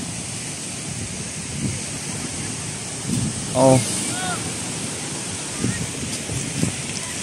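Waves wash and roll steadily under gusty wind, with a brief exclamation from a person partway through.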